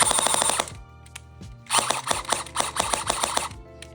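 Bursts of full-auto fire from a WELL vz. 61 Scorpion airsoft gun on a LiPo battery, a rapid rattling stream, then a pause and a second longer burst, close and loud.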